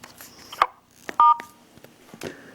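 A few telephone keypad dial tones beep while a call is placed to a voicemail line, spaced irregularly with faint clicks between them, clear and close with no voices.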